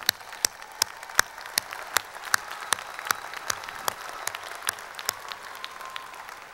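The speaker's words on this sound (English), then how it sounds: "Let's give them a round of applause for that." Steady, rhythmic clapping at a college commencement ceremony: sharp distinct claps at an even pace, like a small crowd applauding in unison.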